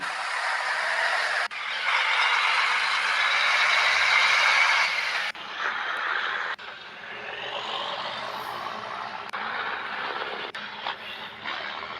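Heavy trucks from a logistics fleet sound off with loud, steady exhaust and engine noise, broken by abrupt cuts and shifts in level, close by with no talk.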